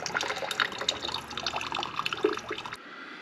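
Water drains from a 1985 Honda CR250 motorcycle engine, a steady splashing trickle with irregular drips that runs continuously and then cuts off abruptly near the end.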